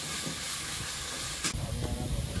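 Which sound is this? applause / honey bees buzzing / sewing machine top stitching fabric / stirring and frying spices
stirring and frying spices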